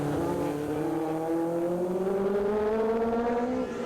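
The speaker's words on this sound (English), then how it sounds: "Cars sounding beautiful through the camera, that microphone down there as they work their way down the wriggly bits" Historic racing car at the Winton circuit, its engine note climbing smoothly and steadily as it accelerates through a series of bends, loud and close to the microphone, with no talk.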